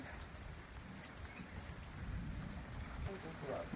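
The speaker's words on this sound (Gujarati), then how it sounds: "અત્યારે તો વરસાદ ધોમેધોમ આવે છે" Steady unseasonal rain pattering on surfaces in a village, a dense continuous hiss with scattered drops, moderately loud and close.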